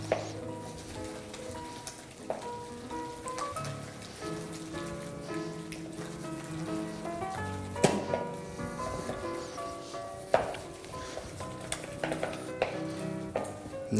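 Bones are stirred in a cooking pot, giving a continuous sizzling, bubbling clatter with irregular knocks and scrapes that rise and fall over several seconds.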